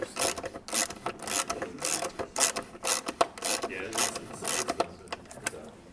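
Wrench ratcheting a bolt out of a BMW Z4 M S54 engine during valve cover work, a rapid series of close, crisp mechanical clicks and metallic scrapes in bursts.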